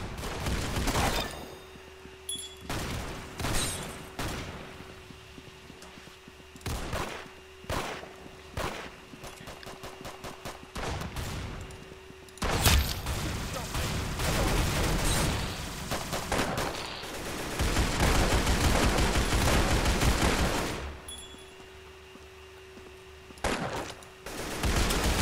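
Calico gun firing in the Roblox game Arsenal: rapid close bursts of automatic fire in irregular clusters, with one long sustained stretch of shooting through the middle and short pauses between volleys.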